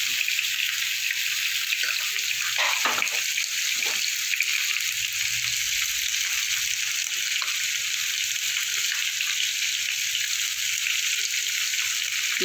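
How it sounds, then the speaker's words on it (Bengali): Potato and pumpkin pieces fry in a pan for a vegetarian curry, giving a steady, close hiss of sizzling oil with a few brief stirring clatters near the start. "কিছুটা ভাজা ভাজা করে নেব।"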